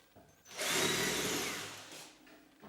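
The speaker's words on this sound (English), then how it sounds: "drill out the holes" A single burst of a power drill boring mounting holes into a wall for cabinets, a loud whining grind that lasts about a second before stopping.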